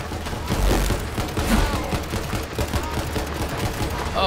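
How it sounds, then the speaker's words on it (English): Dense rapid gunfire in Borderlands 3, a continuous loud fusillade of overlapping shots and booms lasting the whole moment. "we're gonna do all of this shooting far the hell away"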